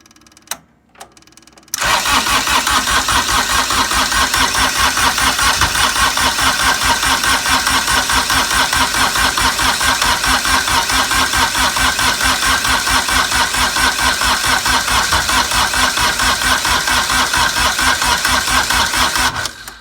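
A Cub Cadet 1512 diesel tractor on a weak, cold battery: after a few brief clicks and a short pause, the starter turns over slowly in a loud, rhythmic chugging crank that runs unbroken for about eighteen seconds without catching.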